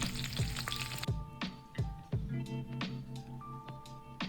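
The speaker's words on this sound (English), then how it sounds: "You can fry them till however crispy you like. I like mine extremely crispy." Birria tacos fry in a pan until crispy, with a soft sizzle under a series of sharp clicks and taps from utensils against the pan, fairly quiet and close.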